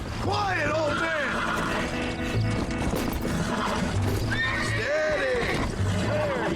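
A horse in Red Dead Redemption whinnies and snorts repeatedly over clattering hooves and mechanical ratcheting, loud and close, with someone talking throughout.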